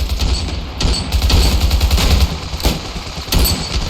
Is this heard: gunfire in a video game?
yes